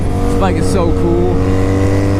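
A 1987 Honda Super Magna motorcycle engine runs loud and steady with a constant low drone, while a person talks over it.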